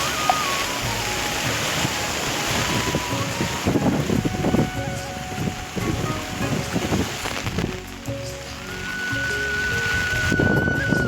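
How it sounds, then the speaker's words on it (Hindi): Rainwater flows rapidly through a village after heavy rain, a steady broadband rushing and splashing that stays loud and continuous throughout, with no voices over it. "ये गाइस एक पानी का सुंदर सा फुहारा जा रहा है, जो कि इस वजह से तेजी से बह रहा है।"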